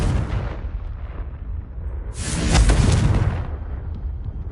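A Confringo blast spell in a Harry Potter video game, a deep booming explosion swelling up with a bright crackling burst in the middle, loud and close, then rumbling away.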